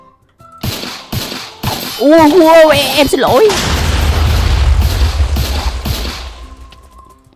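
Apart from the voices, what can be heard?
gunfire from a gun in a video game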